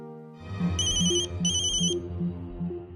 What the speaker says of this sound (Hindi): ये मंजूषा इस वक्त मुझे क्यों फोन कर रही है?